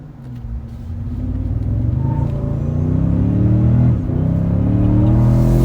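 A 2022 Toyota Tundra Platinum hybrid truck accelerates hard from a stop toward 60 mph, its engine rumble rising and strengthening close by, with a brief dip in pitch as it shifts gears.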